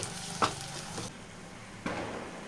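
Sheep blood fries with chili, pepper powder and masala in a pan, a low, steady sizzle broken by two brief scraping stirs, fairly quiet and close.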